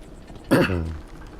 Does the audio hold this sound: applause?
no